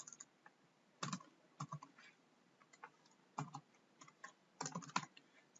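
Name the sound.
typing code on a computer keyboard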